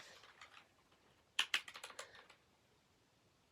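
A quick burst of clicky keystrokes on a GK61 mechanical keyboard, about a dozen sharp taps close by over roughly a second, after faint lighter typing and followed by quiet.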